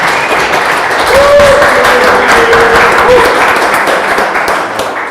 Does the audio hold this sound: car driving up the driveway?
no